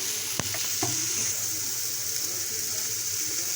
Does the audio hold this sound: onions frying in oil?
yes